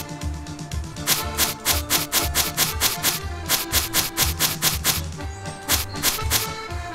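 Lemon being zested in the Cooking Simulator game, heard as a steady run of rhythmic scraping rubs in quick bursts, fairly close, over a faint background hum with no talk.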